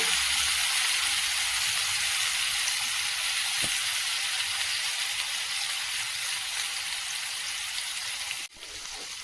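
Fish frying on a dosa griddle: a broad, steady hiss of oil sizzling close by, nearly unchanging for several seconds, then dropping abruptly near the end after a brief clack.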